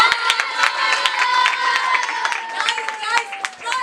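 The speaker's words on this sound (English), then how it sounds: "Round of applause, everybody. Clap it up." An audience claps and cheers in short, uneven bursts during a classroom role-play performance, lively hand claps mixed with voices and shouts from the group.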